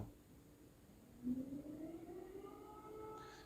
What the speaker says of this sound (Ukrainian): мені заважає сирена